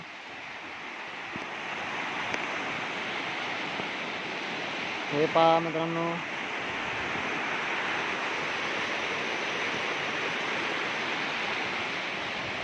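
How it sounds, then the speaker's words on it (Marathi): Village floodwater pours over a waterfall carrying firewood, a steady loud rushing roar throughout, with someone talking briefly over it. "अशा प्रकारचं पाण्याचा धबधबा कसा येतो पहा"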